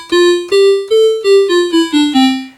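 An ARP Explorer I synthesizer plays a descending run of eight notes shaped by its preset ADSR envelope, each tone bright and reedy with a quick attack and short sustain, loud and close with no talking.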